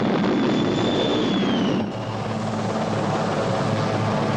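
A Sea King anti-submarine helicopter drones loudly overhead with a steady rotor and turbine roar and a high whine that slides downward as it passes, continuous throughout with no voices.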